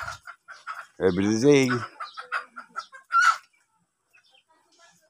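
Pet chickens cluck loudly and close by as they are fed, with a sustained cackling call early on followed by several shorter clucks, and a person speaks briefly over them.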